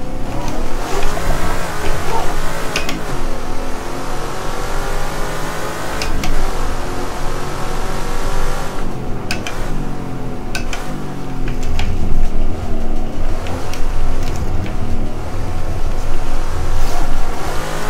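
A 1971 Ford Mustang Trans Am race car in the Assetto Corsa game at Bryar Motorsport Park gives a loud, continuous V8 engine roar, revving up and down through gear shifts across the whole stretch, close and with no talking.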